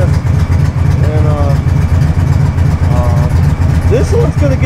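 A 2003 Victory V92C motorcycle with aftermarket exhaust idles close by, a loud, deep, steady throb with a fast pulsing beat that does not let up.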